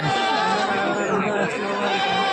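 Goats bleat amid the dense, steady bustle of a Saturday goat market at Rettiyapatti, with voices talking throughout the crowd.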